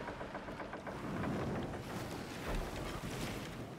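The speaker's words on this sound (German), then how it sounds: "Segel aufziehen." Sails go up on a pirate ship in Skull and Bones, a continuous rushing wash of wind and sea that swells and eases without pause, steady and fairly loud, with no talking.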